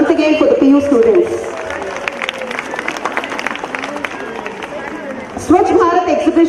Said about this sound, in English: A big round of applause once again for the PU students.